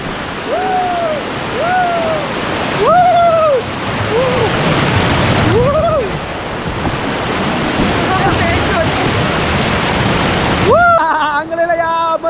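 A river rushes near a waterfall in a Konkan village, a loud steady roar of water with wind buffeting the microphone while voices call out over it.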